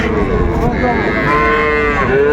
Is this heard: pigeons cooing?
no